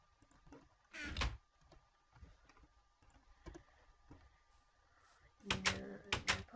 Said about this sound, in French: Une porte.